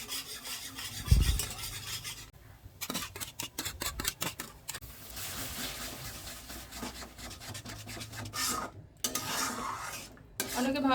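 A spatula scrapes and stirs thick masala gravy with yogurt in a pan for a chicken curry, making rapid, rhythmic close-up scraping strokes in bursts with brief pauses and no talking.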